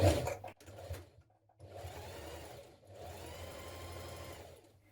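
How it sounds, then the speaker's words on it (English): Sewing machine topstitching the back hem of a simple unlined jacket, heard close and fairly quiet in two steady runs of rapid whirring stitching separated by a brief pause, with no talk. "Now press up your back hem and top stitch in place."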